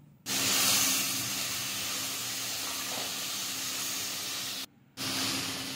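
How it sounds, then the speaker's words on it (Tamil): Onions and tomatoes sizzle loudly in a hot pan, a steady frying hiss that cuts off briefly and then resumes. "இப்போது நம்ம நறுக்கி வச்ச தக்காளியும் போட்டு நல்லா வதக்கிக்கலாம்."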